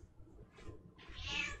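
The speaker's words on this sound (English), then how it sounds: "Meow, cat." A single close cat meow rises out of a quiet room, brief and fairly clear after a few soft rustles.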